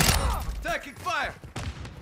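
Bursts of gunfire in Modern Warfare 2 multiplayer, a few quick loud shots mixed with game voice callouts heard over them.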